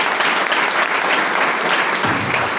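A church congregation claps loudly and steadily after a sermon. The applause is dense and continuous and stays at full strength throughout.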